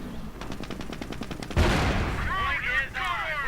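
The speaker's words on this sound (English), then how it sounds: "Grenadiers taking quite a bit of fire, MG42 still sneaking about." Rapid bursts of MG42 machine gun fire in a WWII strategy video game, a fast rattling run of shots followed by a loud blast and ricocheting battle noise.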